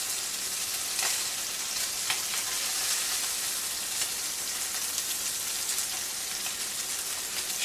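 Angel hair pasta wrapped shrimp frying in a hot pan, a steady dense sizzle with faint crackles throughout, close and continuous with no talking.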